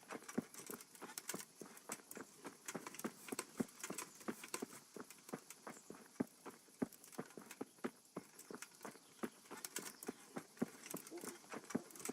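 Clip-clop of horse hooves in Kingdom Come: Deliverance, a steady rapid patter of hoofbeats at moderate distance, fairly quiet, with soft background ambience.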